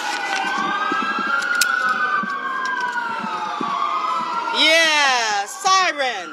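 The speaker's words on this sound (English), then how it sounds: "sirens" Police-style sirens wail and then yelp, rising and falling steadily at a protest rally outside the Department of Justice over ICE raids in Los Angeles, with crowd noise and voices in the background.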